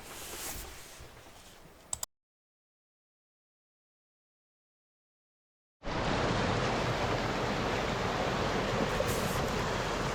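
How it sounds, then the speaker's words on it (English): Heavy creek flow of muddy water after heavy autumn rains near an off-grid mountain cabin, a steady broadband rush heard twice with a silent gap between, loud and close. "The creek closest to our cabin ran heavy with muddy water."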